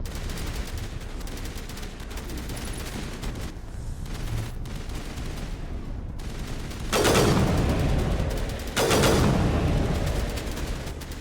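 Gunfire in Mass Effect: Legendary Edition, played on Xbox Series X, with scattered shots and bursts over a low background, then two loud, sustained volleys of rapid fire close by toward the end.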